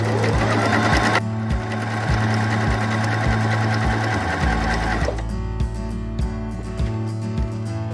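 A Hobby 1142 sewing machine sews a satin stitch, running with a fast, steady mechanical whir and rhythmic needle thumps close up, shifting to a slightly different speed partway through.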